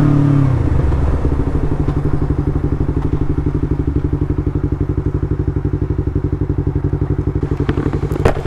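A 2018 Yamaha MT25 motorcycle idles close by, its engine thumping in a steady, rapid pulse that stays loud and even throughout, with a light mechanical clatter over the beat.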